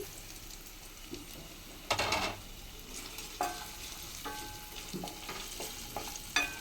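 A tempering of seasonings sizzles in a pan for cashew upma, with a low steady fry broken by several scraping stirs and clinks of a spoon against the metal, and no voices.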